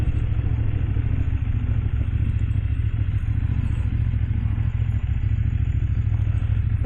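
A CFMOTO 800 MTX motorcycle rides off-road with a steady, low engine rumble and a light mechanical clatter, continuous and even throughout, with no voices.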